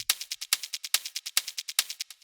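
A second hi-hat sample in a dark techno track, shaker-like and built from retro sound effects, ticks in a steady fast sixteenth-note pattern with accented hits and faint low thumps beneath, played alone.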